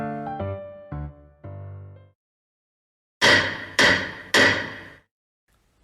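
A judge's gavel in a courtroom trial, three loud, sharp wooden strikes in even succession, heard alone after a short run of tones.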